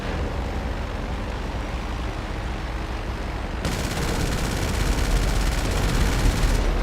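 Aircraft cannons in the video game GTA Online fire in a dense, continuous rattling stream under a rumbling engine drone, growing louder and harsher partway through.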